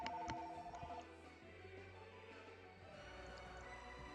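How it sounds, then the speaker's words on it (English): A telephone rings in Bravely Second: End Layer, a short electronic trill at the start over steady game music and background sounds. "That is a telephone."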